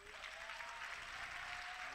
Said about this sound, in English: Let's clap hands for Jesus again.